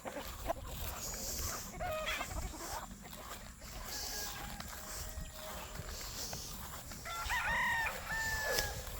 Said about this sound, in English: I'm finna get rid of all these roosters.